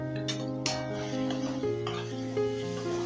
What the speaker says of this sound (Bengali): এবার এটা একটু সামান্য নাড়াচাড়া করে নিচ্ছি